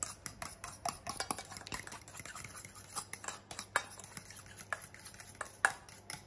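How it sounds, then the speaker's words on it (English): A spoon or whisk stirs rose mayonnaise in a bowl, giving a quiet run of clinks and scrapes with soft wet patter, close and steady, with no one talking. "we're just going to mix this all together and make a beautiful rose mayonnaise"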